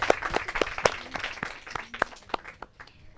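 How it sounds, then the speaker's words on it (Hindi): Scattered applause for a school team named Tiranga at a school competition, individual sharp claps standing out over a softer, thinning crowd clapping that fades toward the end. "तालियां तिरंगा टीम के लिए।"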